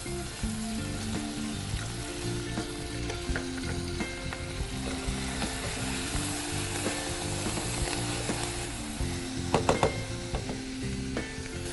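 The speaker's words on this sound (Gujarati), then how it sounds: "આ થોડું સંતળાઈ જાય એમાં આપણે 1 વાડકી જેટલા ધાણા નાખીશું" Peanuts sautéing with coriander in a pan give a steady, close sizzle and frying hiss throughout, with stirring scrapes and a brief clatter of utensils near the end.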